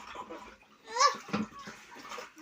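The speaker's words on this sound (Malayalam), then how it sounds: "പെട്ടെന്ന് കോരി ഒഴിക്കുന്നു" Water is scooped and poured out in quick splashing bursts while a water tank is being cleaned, with the loudest pour around the middle; nearby voices, including a child's, can be heard.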